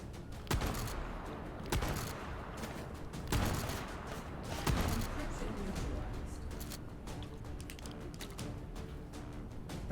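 Shotgun blasts in the VR shooter H3VR, several loud booming shots spaced about a second or more apart, each with a short echoing tail, while a person talks over them.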